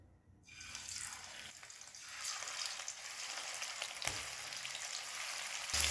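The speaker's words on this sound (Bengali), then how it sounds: "গ্যাসটাকে এবার হাই ফ্লেমে রেখে 5 থেকে 6 মিনিট মাছগুলো ভেজে নেব।" Rohu fish frying in mustard oil in a kadai over a high gas flame, a steady dense sizzle and crackle that sets in after a brief quiet start and holds loud and close throughout, with no voices.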